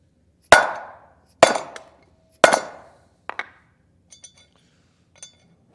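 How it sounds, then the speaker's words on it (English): Three sharp metallic hammer strikes on an old bearing race set over a wood block, each ringing briefly and decaying, followed by a few lighter clinks; close and loud with no talk. "we'll hit that with the hammer"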